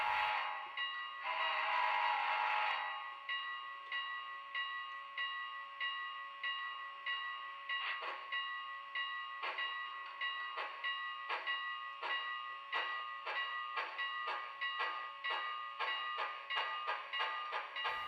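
Sound-equipped HO-scale Athearn Genesis Union Pacific 4-8-8-4 Big Boy model locomotive sounding its whistle, a sustained tonal blast over a rhythm of steady, repeating chuffs that grow quicker and quieter.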